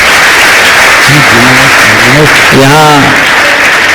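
An audience applauds at a spiritual discourse gathering in Kotma, with the steady wash of clapping running under a voice speaking over it for most of the clip.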